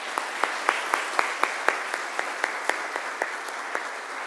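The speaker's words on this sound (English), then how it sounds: "These children deserve a big round of applause." A few people clap for children who learned the Vedam at an ashram satsang, with sparse, evenly spaced single claps and no crowd roar behind them.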